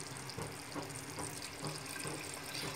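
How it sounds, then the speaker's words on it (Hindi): Water poured into a pot of chicken stew on the stove, a steady, faint gushing pour that fills the whole moment with no voices. "अब हम इसमें थोड़ा सा पानी ऐड कर देंगे।"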